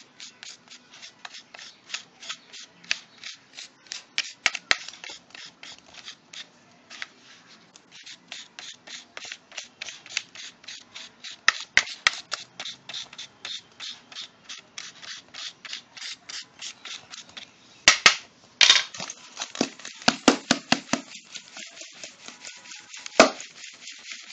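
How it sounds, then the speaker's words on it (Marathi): A spoon or whisk breaks up lumps in a bowl of eggless chocolate cake batter, giving dense, rapid scraping and tapping strokes that run on in uneven bursts, close and fairly crisp. "हे जे खडे आहेत हे फोडून घेऊया।"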